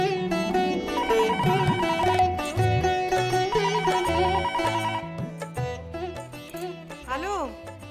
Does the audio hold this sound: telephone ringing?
yes